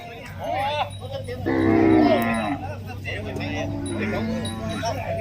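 Cattle low loudly and close by at a cattle and buffalo market in Ban Chan Toei, Suwannaphum, Roi Et, Thailand, with one long moo in the middle and others around it while people talk throughout.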